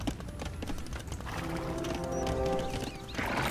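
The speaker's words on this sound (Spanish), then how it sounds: "A puro arquero a caballo español contra Buco" Rapid clip-clop of horse hooves from Spanish mounted archers in Age of Empires II, a busy overlapping patter with a brief neigh-like tone in the middle, fairly loud and alone.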